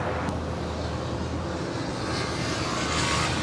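A Boeing 777-300ER airliner takes off from LAX runway 25 right, a broad, steady roar of jet engines heard from a distance and holding even through the whole stretch.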